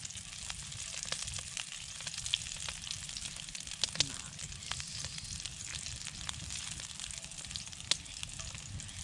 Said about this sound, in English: So we'll add the garlic and chili. We'll saute it nice.